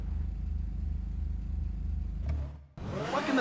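A Benefactor Krieger supercar in GTA Online idles with a steady low engine drone, then gives a short rev and cuts out before a brighter whirring sound begins.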